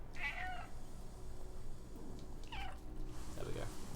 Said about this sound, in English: pressing the meow button